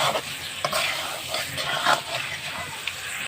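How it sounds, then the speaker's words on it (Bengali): A spoon stirs chicken curry gravy with potatoes as it fries in a pan, giving a close, continuous sizzle with scraping stir strokes throughout. "তো এখানে আর একটু কষাতে হবে।"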